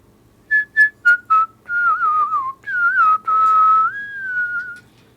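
A classical Carnatic melody whistled by a classical musician opens with four short, separate notes, then moves into sustained, gliding phrases with bends and ornaments, clear and close, with no other sound around it.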